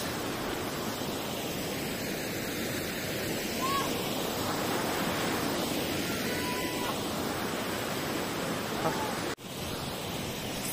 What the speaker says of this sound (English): This is a Somdal waterfall.